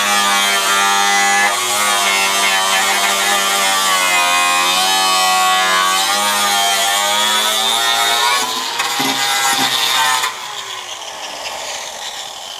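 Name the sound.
grinder on inner wheel lip of 1974 Dodge Dart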